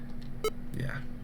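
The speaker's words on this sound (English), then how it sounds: "I can hear the beeps when I press now." A short electronic beep sounds once on a key press in an Amiga game, brief and clear, with a voice talking around it.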